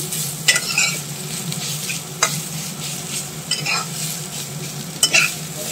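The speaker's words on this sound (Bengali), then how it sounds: "দেখো মূলোটাকে ভালো করে একটু ভাজা ভাজা করে নিচ্ছি।" Radish pieces fry in a generous amount of oil while being stirred, a steady close sizzle with sharp scraping strokes of the spatula recurring every second or so, with no talking.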